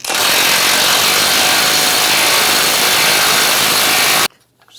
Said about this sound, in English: Using a 24mm socket,